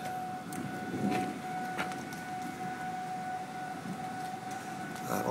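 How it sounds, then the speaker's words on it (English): Tornado warning sirens wail steadily in the distance, a faint sustained tone beneath rumbling wind and storm noise. "Oh, they've activated the tornado sirens."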